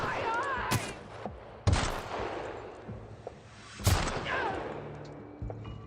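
Gunfire in the sci-fi shooter The Outer Worlds, played on PS4: a few sharp shots land roughly two seconds apart over low ambient game noise, one of them especially loud and close.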